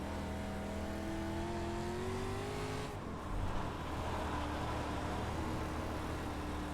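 Dirt street stock race car in iRacing, its engine holding a steady sustained drone that rises slightly in pitch, dips briefly mid-clip, then continues; game audio is fairly quiet and no talk over it.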